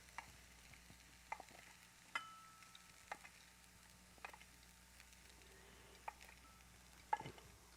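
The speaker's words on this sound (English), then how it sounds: "our mustard seeds are also spluttering for the next dish" Mustard seeds spluttering in hot oil on a stove, heard as a faint, steady sizzle broken by scattered small pops and crackles at irregular intervals, quiet and close, without any voices.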